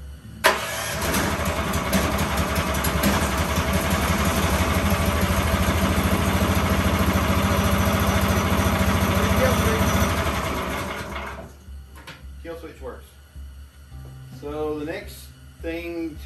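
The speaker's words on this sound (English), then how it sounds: "my first test is to start the engine at an idle" A Frontier OS23 portable sawmill engine, upgraded with doubled horsepower, cranks and starts, running loud and steady at idle for about ten seconds before cutting off, followed by quieter mechanical clatter.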